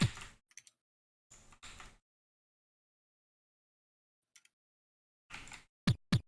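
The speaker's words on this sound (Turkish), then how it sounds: "Klavyeye zor basıyorum ya." Typing on a computer keyboard during a Haxball game session, heard as sparse, quiet clusters of clicks and taps separated by long silent gaps, with a few sharper keystrokes toward the end.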